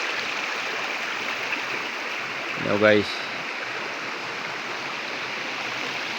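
A mountain river rushes steadily in the background while someone speaks briefly over the flowing water partway through.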